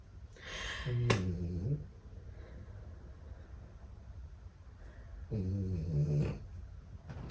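A dog makes two bursts of low, whiny, moaning vocalizations with a few seconds of quiet room noise between them, indoors.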